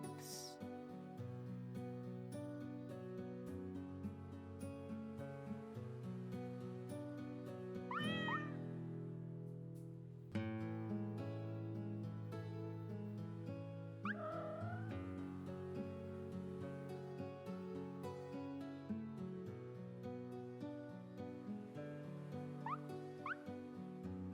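A cat meows several times in short rising calls, close and clear, over a steady bed of continuous background music.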